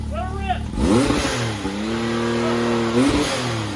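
A side-by-side UTV engine fitted with a blow-off valve runs submerged under water, revving hard and rising and falling in pitch at close range, loud and rough, with a brief voice near the start.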